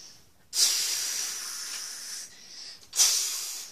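Two bursts of forceful hissing spray from a fire engine, one long and one starting near the end, with a short quiet gap between them.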